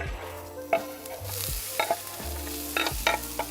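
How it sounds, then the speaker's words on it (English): Vegetables hit an oiled flat-top griddle for Cajun fried rice, giving a steady moderate sizzle broken by several sharp spatula scrapes and clacks against the metal surface. "now that I got my griddle ready, now we're gonna go ahead and just get our, our veggies on"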